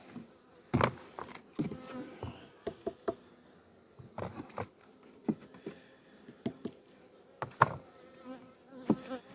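Honeybees buzz around close by at a hive, a soft hum punctuated by loud passing buzzes and scattered tapping knocks.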